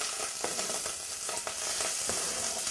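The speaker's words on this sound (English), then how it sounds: "now that the oil's nice and hot," Vegetables sauteing in hot oil in a pot while making a simple pot of beans, a steady close sizzle and crackle with occasional stirring scrapes, no talking.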